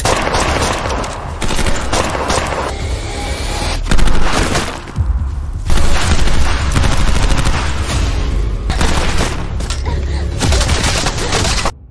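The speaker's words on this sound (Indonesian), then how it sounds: "Tapi saat akan menembak Arisu, dengan cepat Aguni menembak Raja Sekop." Bursts of gunfire fill a fight scene from the film Alice in Borderland, with loud rapid volleys and single shots in clusters, a brief lull near the middle, then renewed firing that cuts off abruptly.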